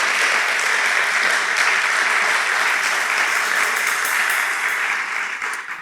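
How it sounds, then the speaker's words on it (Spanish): Loud, dense applause from a church congregation during a sermon, many hands clapping in a thick continuous roar that stays strong for nearly six seconds, then tapers briefly at the end. "Denle un aplauso al Señor con fuerza."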